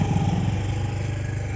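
A motorbike engine putters steadily and close up on a hill road, a brief continuous drone with a rhythmic low pulse.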